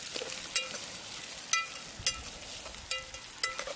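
Onion frying in oil in a pan for a crab recipe, a soft continuous sizzle broken by several sharp clinks of a utensil stirring against the metal, close and quiet.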